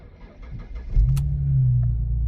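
A 3.0-litre V6 in a high-mileage Jaguar S-Type with a slightly flat battery cranks briefly, then catches and settles into a loud, steady idle close to the microphone, running with a slight misfire.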